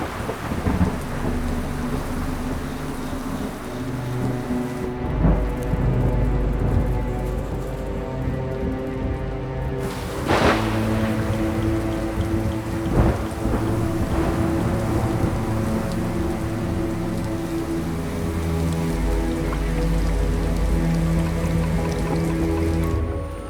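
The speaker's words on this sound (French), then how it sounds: "S'il amène avec lui l'eau tant attendue, l'orage est aussi synonyme de danger." Heavy rain pours steadily during a thunderstorm, punctuated by several loud thunder cracks and rumbles, one sharp close strike near the middle and others rolling through the downpour.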